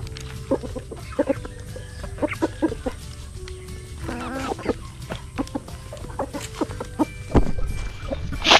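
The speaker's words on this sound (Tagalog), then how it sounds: "Pinakain natin sa mga manok natin" Chickens clucking close by while pecking at damaged corn, with repeated short clucks and calls in an irregular rhythm and a louder burst near the end.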